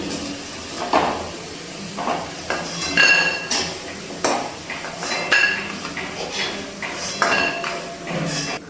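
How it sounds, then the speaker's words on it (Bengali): Lentil fritters are scooped out of hot frying oil in a home kitchen, with close metal clinks and scrapes of a spatula against the pan and a faint sizzle underneath, without talking. "বড়াগুলো খুব ভালো করে ভেজে নিয়েছি। এবার তেল থেকে তুলে নিচ্ছি।"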